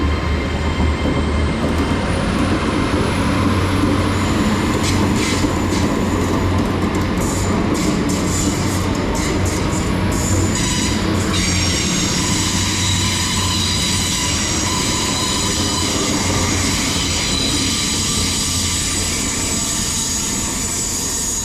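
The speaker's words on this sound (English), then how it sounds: "the 1513 Great Western Railway service to London Paddington from Bristol Temple Meads" A Great Western Railway class 800 train passes through Bath Spa station, with a loud, continuous roar of wheels and motors and brief metallic squeals, close by and steady for the whole stretch.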